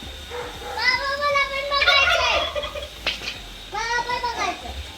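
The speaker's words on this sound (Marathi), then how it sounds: "टर्की आहेत" Turkeys gobble in two rapid, warbling bursts nearby on a farm, loud and bubbling, with children's voices faintly in the background.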